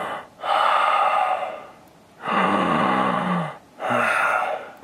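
A voice imitates hard, heavy breathing with three loud, rasping breaths in a slow rhythm, close to the microphone and separated by brief pauses.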